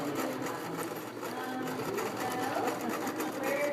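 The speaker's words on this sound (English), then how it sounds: "she is sewing and making an apron" A sewing machine stitching fabric for an apron, running in a steady continuous whir that is close and fairly loud throughout, with faint background voices underneath.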